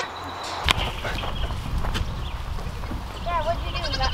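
A goat in a backyard greenhouse setting bleats a short wavering cry near the end, preceded by a sharp crack, over rustling outdoor background.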